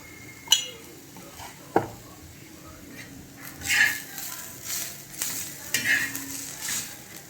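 Onion frying in a pan with coriander and coconut added, giving a soft sizzle under brief stirring scrapes and a couple of sharp clinks of a utensil on the pan, with quiet talk nearby.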